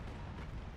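Grenade blasts in Call of Duty, a dense low rumbling boom that rolls on steadily without a break, heavy and loud.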